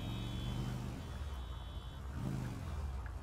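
Car engine in the GTA RP game running steadily throughout, a low continuous drone with a faint rise in revs near the end and no voices.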